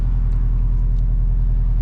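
A deep, steady engine rumble sits close and loud, the low throb of a 2023 Porsche 718 Boxster with a turbo inline-four pulling away with the top down.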